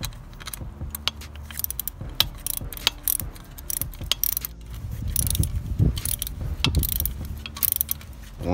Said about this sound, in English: And tighten this up with the socket.